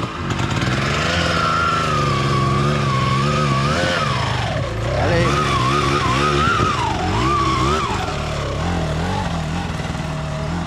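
A Honda CRF250F dirt bike engine revs and accelerates hard off-road, its loud buzzing tone rising and falling in pitch as the throttle opens and eases, close and continuous.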